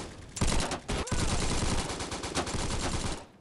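Sustained rapid automatic gunfire from new guns such as a Tommy Gun and MP40 in the mobile shooter Bullet Force, loud and dense bursts with a brief gap near the start.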